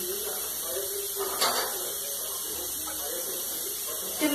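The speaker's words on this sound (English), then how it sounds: "I need to have more water. You can add more milk and I am adding more water." Water is poured into a homemade milk drink sweetened with sugar and a pinch of salt, a soft steady hiss and splash running under faint room noise.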